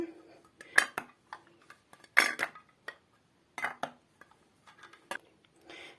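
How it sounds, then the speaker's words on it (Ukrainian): Several sharp clinks and taps of filled glass jars being covered with metal lids, scattered irregularly with pauses between, close and fairly quiet. "Якраз усі баночки наповнила я, прикриваю кришечками."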